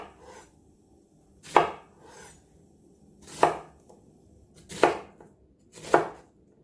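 Four sharp knife chops strike a cutting board, spaced about two seconds apart, close and crisp, while vegetables are cut for a chicken-in-a-pot dish, with quiet gaps between strokes and no talking.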